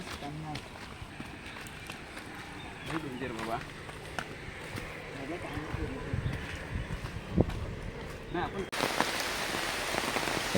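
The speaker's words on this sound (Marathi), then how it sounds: "पाऊस पण आलाय" Rain pattering on a surface, growing heavier toward the end, with people talking and moving around close by.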